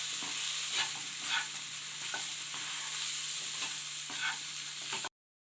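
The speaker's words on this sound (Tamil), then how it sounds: "இப்போ இதை எல்லாத்தையும் கிளறி விட்டுக்குங்க." Cauliflower and white chickpea kurma mixture stirred in a pan, a steady soft sizzle under repeated scraping strokes of a spoon, close and even throughout.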